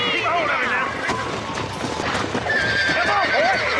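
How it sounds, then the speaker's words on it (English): Horse hooves clip-clop and a loud neigh rings out as the horse bucks in Red Dead Redemption, busy and close, with game gunfire-like bursts in the mix and someone talking over it. "I gotta stay centered on the horse, and it's trying to buck me the fuck off."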